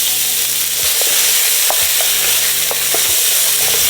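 Celery, carrots and onion hit a hot pan holding browned beef fond, giving a loud, steady sizzle with scraping stirs and small pops throughout, with no voices.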